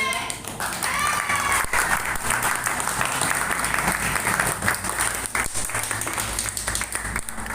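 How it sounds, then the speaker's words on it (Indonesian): An audience claps at a class session on the Indonesian national legal system, a dense, sustained round of applause that holds steady for several seconds with no break. "Tepuk tangan yang meriah."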